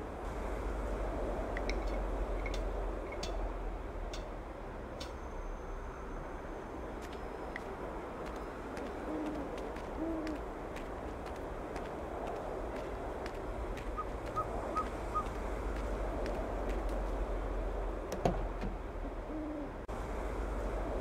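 A bird hoots repeatedly in the Broken Sword 5 adventure game, owl-like calls sitting faintly inside a steady low ambient bed, with a few soft clicks and no speech.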